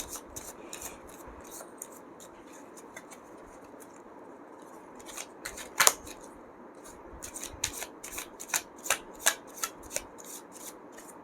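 Angel oracle cards shuffled by hand, a soft rubbing riffle that becomes a quick run of sharp, rhythmic card snaps toward the end, close and fairly quiet, with no talking.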